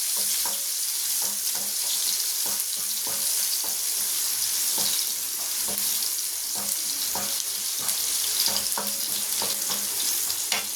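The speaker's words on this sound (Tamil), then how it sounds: "பூண்டை நல்லா ஃப்ரை பண்ணிக்கலாம்." Garlic fries in hot oil with fennel seeds, a steady bright sizzle filling the whole stretch, broken by repeated soft scraping stirs at a close distance, with no voices.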